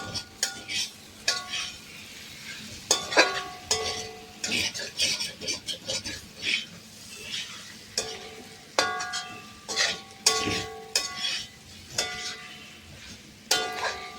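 Pork roast with roasted ground coconut is stirred in a pan, giving scraping spoon-on-metal strokes and soft clinks in an uneven rhythm over a low sizzle, close by with no talk.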